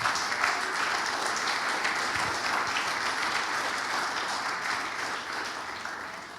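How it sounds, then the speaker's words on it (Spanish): A church congregation claps loudly and continuously in praise to the Lord during a sermon, a thick sustained wash of applause that slowly tapers off toward the end. "Dar un fuerte aplauso al Señor."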